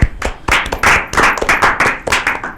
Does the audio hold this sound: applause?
yes